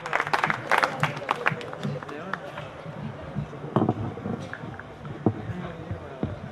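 An audience at a Haryanvi kavi sammelan, a comedy poetry gathering, claps to welcome a comedic poet. Brisk applause is loudest at the start, then thins to scattered claps mixed with crowd noise and voices.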